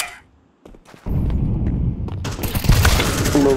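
A thrown fire grenade bursts in Counter-Strike, a loud sustained whooshing roar of flames that swells after a brief lull and keeps crackling to the end, with game gunfire-like booms mixed in.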